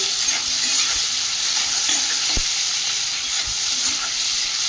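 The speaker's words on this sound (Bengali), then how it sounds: "চিংড়ি মাছগুলো আগে থেকে লবণ আর হলুদ মাখিয়ে রেখেছিলাম, হালকা ভেজে তুলে নেব।" Shrimp coated in salt and turmeric frying in oil, a steady close hissing sizzle throughout with faint stirring clinks, no talking.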